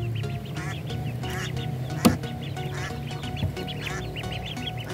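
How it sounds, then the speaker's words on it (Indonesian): A flock of ducks quacking repeatedly in quick bursts, fairly close, with a sharp click partway through and a low background rumble, as they are loaded onto a truck. "Ini lucu sekali ya bebeknya teman-teman"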